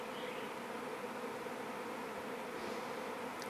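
A honey bee swarm arrives at a hive on a deck, making a faint, steady, diffuse buzzing hum with no voices.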